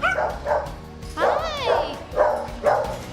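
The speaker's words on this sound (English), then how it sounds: "the barking will get louder" Several dogs bark and yip in a close, echoey pet adoption center, with a rising whine in the middle, while a voice talks underneath.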